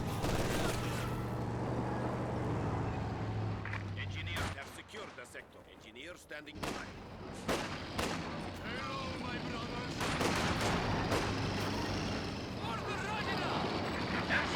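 MG42 machine gun fire in Company of Heroes 2, sharp rapid bursts cutting through a busy battlefield mix of distant explosions and rumble, with a brief lull midway before the firing resumes.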